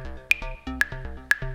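A recorded synth pad sample plays briefly and softly, a sustained tonal chord with short bright blips recurring about every half second.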